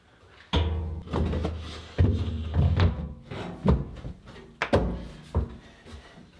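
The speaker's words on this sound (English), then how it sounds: "I could set the tank in place." An aluminum waste tank is set into place inside a camper van, a close series of hollow metallic thunks and knocks at uneven intervals.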